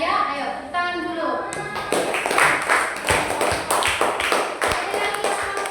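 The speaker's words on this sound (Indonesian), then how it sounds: "Ayo, tepuk tangan dulu." Primary school children clap together in an Indonesian classroom, starting after a teacher's voice and continuing as loud, fairly rhythmic, close group clapping with scattered individual claps.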